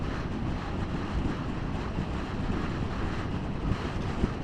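Wind buffets the microphone in a constant low rumble with gusty swells, loud and close, with no voices.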